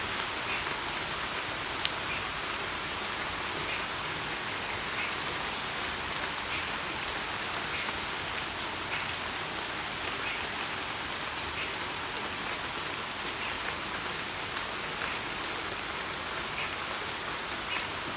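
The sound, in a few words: sudden rain falling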